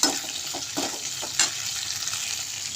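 Curry leaves sizzle and crackle in hot oil with black pepper and cumin for a Chettinad curry-leaf kuzhambu, a steady close fry broken by a few sharp stirring scrapes.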